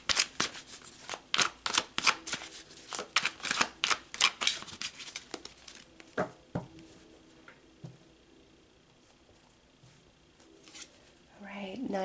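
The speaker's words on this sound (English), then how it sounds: "So let's pull some tarot." A deck of tarot cards being shuffled, a rapid run of crisp riffling flutters close by for several seconds, then quieter handling with a few isolated card snaps and faint sounds near the end.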